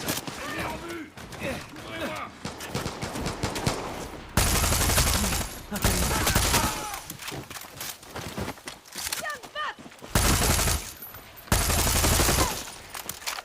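Rapid bursts of gunfire from a weapon in the video game Far Cry 5, loud volleys recurring through the stretch, mixed with game sounds and people talking.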